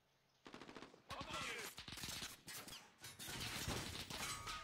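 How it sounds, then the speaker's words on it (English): Rapid gunfire in a squad shooter video game: dense bursts of automatic fire and sharp cracks filling the whole stretch, loud and continuous after a quiet start, with brief clattering impacts mixed in. "Shooting to my left."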